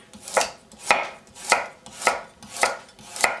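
A knife chops vegetables into matchsticks on a cutting board in a steady rhythm of six sharp, close taps, each followed by a brief slicing rasp, with no talking.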